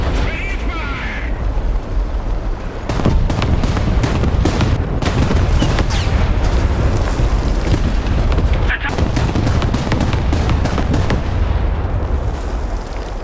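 A M4A3 (105) tank in War Thunder booms amid a constant roar of battle, with repeated heavy shots and explosions landing every second or so over engine rumble, loud and close, with voices calling out in between.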